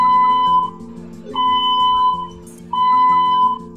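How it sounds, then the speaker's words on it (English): Fire and gas alarm on the Ofon offshore platform, a loud electronic tone sounding in three long, steady blasts separated by short gaps. "The fire and gas alarm sounds like this."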